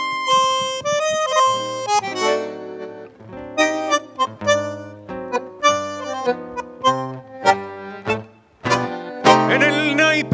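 Tango played live on bandoneon and guitar, with rich sustained reed chords and plucked bass notes in a rhythmic, phrased accompaniment, loud and close, purely instrumental.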